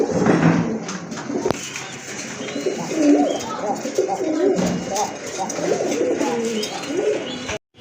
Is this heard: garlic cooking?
no